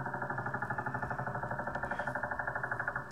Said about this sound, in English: what you're hearing is the Russian woodpecker radar